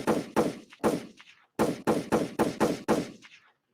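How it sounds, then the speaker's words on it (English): Gunshot sound effects fire in a short sequence of about eight sharp, loud reports with brief echoing decays: three in quick succession, a short gap, then five more in an even rhythm. "Let me get some gunshots right now."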